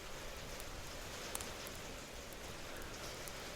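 Steady rain used as a sound effect in a horror story, an even, dense patter of raindrops on a surface, continuous and soft with no voices.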